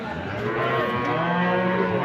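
A Holstein Friesian dairy cow at a village cattle market in Ambari gives a single drawn-out moo, close and clear, lasting about two seconds.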